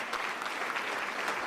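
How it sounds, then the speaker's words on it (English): A crowd applauds Philadelphia city solicitor Renee Garcia at a mayoral press event, a brisk, even wash of many people clapping together, fairly close and uninterrupted. "Give Renee Garcia, our city solicitor, a round of applause"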